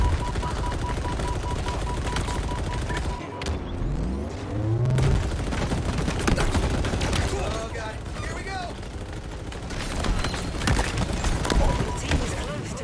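Continuous rattling automatic gunfire from a Halo-style shooter game, dense and loud throughout, with explosions and players talking over it.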